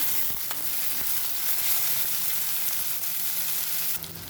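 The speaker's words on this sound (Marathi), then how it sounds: "एक बारीक चिरलेला एक टोमॅटो टाकणार आणि ते पण पूर्ण मिक्स करून घेणार त्याला" Finely chopped tomato dropped into a hot frying pan and stirred in, giving a loud, dense, continuous sizzle with faint scraping stirs underneath, easing slightly at the very end.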